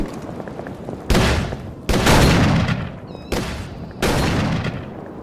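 Four loud, booming gunshots in Call of Cthulhu: Dark Corners of the Earth, spaced irregularly across a few seconds, each with a long reverberant tail in a tense firefight.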